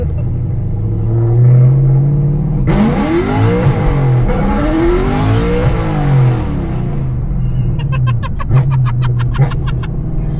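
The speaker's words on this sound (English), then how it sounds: "Let me get the tires a little warm so we can maybe do something." A car on a test-and-tune track revs hard and accelerates to warm up its tires, the engine roaring and climbing in pitch with loud, close, sweeping rises, then dropping to a rough idle.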